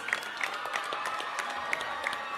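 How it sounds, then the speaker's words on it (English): Scattered applause from a school audience welcoming a chief guest at a student event, moderately distant and fairly faint, with a few sharper claps standing out from the steady patter. "Give them a big round of applause, guys"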